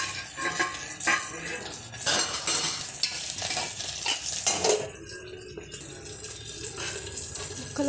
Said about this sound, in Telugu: బెండకాయ ముక్కలు, కరివేపాకు, కొత్తిమీర మొత్తం తాలింపులు వేసి సన్నసగ పెట్టి ముక్కలు మెత్తబడిన దాకా